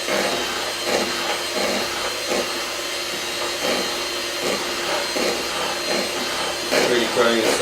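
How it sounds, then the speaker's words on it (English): Chocolate lava cake batter whisked briskly until frothy, a loud continuous rhythmic scraping and whirring near the bowl with steady repeated strokes throughout. "I'm just going to whisk it until it goes slightly stiff."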